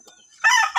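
A mixed-breed red jungle fowl rooster crows, one short, loud, close burst after a brief quiet moment.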